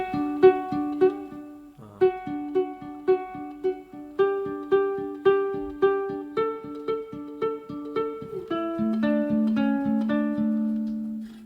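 A ukulele plays a fingerpicked melody of a song's chorus, plucked notes ringing over a steady bass pattern, clear and close, with no voices.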